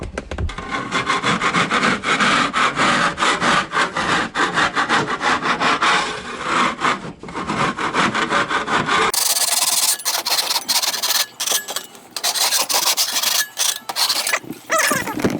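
Scraping and sanding of a drywall patch on a wall, heard as loud, continuous rough rasping strokes close by, with a change in texture partway through and no talk.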